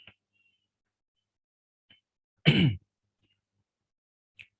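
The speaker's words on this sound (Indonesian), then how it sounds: "Sorry saya masih batuk-batuk." One short, sharp cough or throat clear, close and isolated, surrounded by near silence with a few faint clicks.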